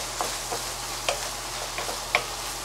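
Ground beef is stirred and broken up in a hot frying pan, with faint soft scraping taps at irregular intervals over a steady low sizzle.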